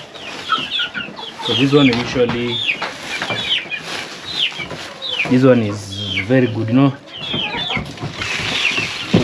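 Chickens cluck and call loudly and close by at a villa in Kenya, mixed with someone talking over the flock.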